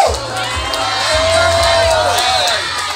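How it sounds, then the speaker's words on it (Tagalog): Wedding guests cheer and shout together at a reception ritual, a loud, sustained crowd roar with high whoops over it, lasting for the whole stretch. "Palakpakan at sigawan!"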